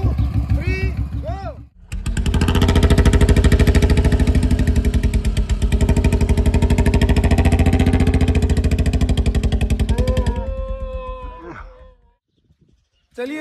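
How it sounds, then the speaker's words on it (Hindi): A Royal Enfield Bullet and a Hero Splendor motorcycle rev loudly together during a rope tug of war, a sustained, rough, pulsing engine roar lasting several seconds before dropping away, with voices at the start and end. "बुलेट मोटरसाइकिल ने इस मोटरसाइकिल को खींच लिया था"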